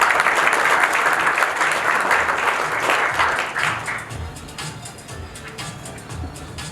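A conference audience welcomes a presenter with dense, sustained applause that swells and then thins out toward the end, with scattered claps and a faint murmur at the tail.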